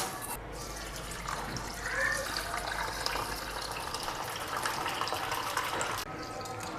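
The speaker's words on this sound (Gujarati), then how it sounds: "આપણે ખીચડીને મિક્સ કરી અને ધોઈ લેશું" Water swishes and trickles steadily as rice and lentils are rinsed together by hand for khichdi, with a low hum in the background throughout.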